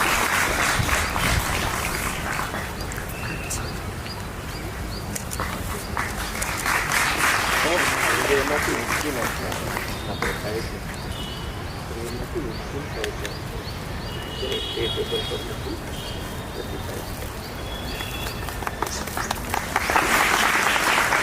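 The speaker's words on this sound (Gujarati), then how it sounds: "સૌ એમને તાળીઓથી વધાવી છે" Applause from an audience at a cultural programme of a women's teacher training college in Nadiad, greeting students named for top exam results; dense clapping runs steadily throughout at moderate level, swelling near the end, with some background voices and birdsong.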